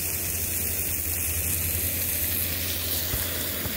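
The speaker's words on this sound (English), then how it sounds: "You could hear the sizzle." Food sizzles and fries steadily on an outdoor cook setup at a creekside picnic, a continuous close hiss under a low background hum.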